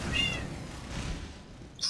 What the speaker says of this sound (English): There's a cat over there.